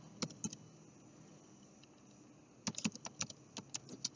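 Fingers type on a computer keyboard while accounting data is entered, a few scattered keystrokes, then a quiet pause, then a quicker run of crisp, close clicks.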